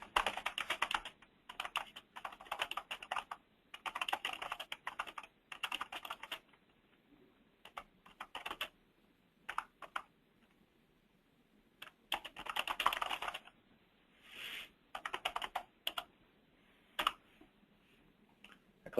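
Bursts of typing on a computer keyboard while entering a description into an online marketplace cart, with quick clustered key clicks separated by short pauses, close and moderately loud.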